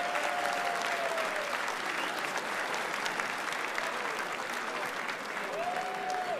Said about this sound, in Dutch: geef maar een groot applaus